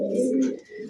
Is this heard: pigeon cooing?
yes